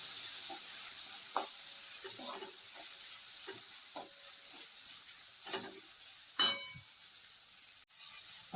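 Mashed aubergine bharit with boiled peas being stirred in a pan over a soft steady sizzle, a utensil scraping and knocking in irregular strokes, close but fairly quiet.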